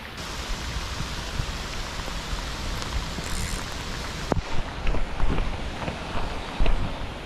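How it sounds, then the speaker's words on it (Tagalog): Heavy rain falls steadily on a river during a fishing outing, a dense loud hiss with spattering drops, swelling with gusts toward the end. "Lakas ang ulan."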